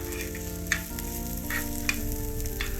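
Onions and cashews frying in a pan, a steady close sizzle with a couple of sharp utensil clinks against the pan.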